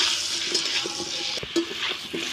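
Potatoes frying in a pan, a steady hissing sizzle with faint bubbling and occasional soft stirring knocks, close and continuous without talk.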